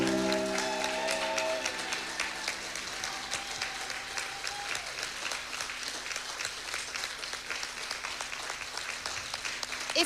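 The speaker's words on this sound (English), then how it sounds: "please give Gail a huge round of applause." Wedding guests at the Forest Town Arena break into sustained applause, dense steady clapping lasting about ten seconds, with a few fading musical tones under it at the start.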